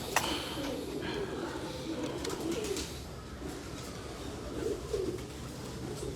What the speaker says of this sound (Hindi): ये मियाँ वाले कबूतरों में से है, मियाँ साहब वाले कबूतर जी